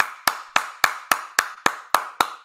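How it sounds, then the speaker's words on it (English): Nine sharp, evenly spaced claps from a single person ring out one after another, crisp and close, each with a short echo trailing off in an otherwise quiet room. "let's get a clap in for that one, man"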